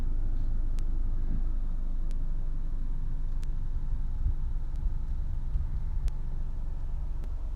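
Honda Civic 1.8 i-VTEC EX five-door hatchback idling with a steady low engine rumble, heard from inside the car, with faint periodic ticks over the hum and no talking.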